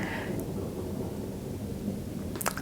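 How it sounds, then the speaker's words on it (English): Low, steady rumble of thunder rolling through the whole stretch, with a faint rustle near the end. "Thunder for confirmation."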